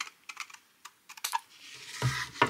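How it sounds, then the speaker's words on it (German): Paper being cut with scissors while crafting a gift box, a quick run of small, crisp snips close up, followed by a louder rustle of the paper. "Das bringt so einen Spaß, mit der Schere zu schnippeln."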